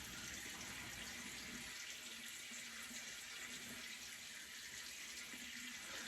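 Water runs steadily from a sink tap while someone wets their skin during an evening skincare routine, a constant close hiss with no breaks.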